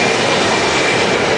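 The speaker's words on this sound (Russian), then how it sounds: "Электричка." Electric commuter train at Omsk station in Siberia, a loud, close, continuous rumbling roar of passing railcars with faint rhythmic wheel clatter, no talking.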